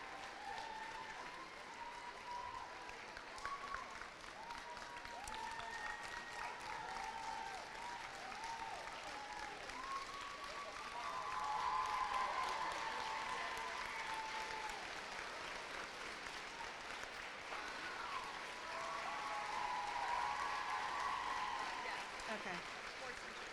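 Applause for cheerleading athletes at an ECC cheerleading championship: a long, steady round of clapping from a crowd in an indoor venue that swells slightly midway, with a voice talking faintly over it.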